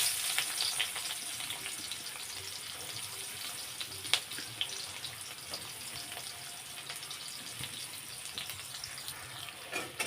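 Onions frying in oil left over from frying fish, a steady broadband sizzle that holds evenly throughout with a few small pops, close and moderately loud, no talking.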